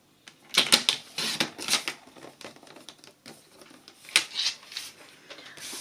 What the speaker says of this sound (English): I'm going to cut away the pieces I don't need, just with my trimmer